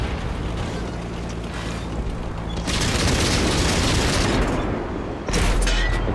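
Tank cannon fire in World of Tanks comes as loud, close bursts of booming, broadband blasts, with a long roaring stretch in the middle and another heavy burst near the end, over rumbling background noise.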